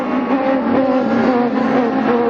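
A Formula Atlantic race car engine stuck in gear roars loudly and close at a sustained high pitch, holding a steady buzzing drone as it passes through quickly.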